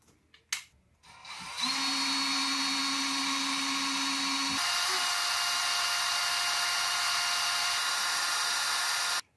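A small socket driver snugging down the tuners on an inexpensive guitar headstock, a few faint clicks followed by a steady whirring power-tool buzz that runs on continuously.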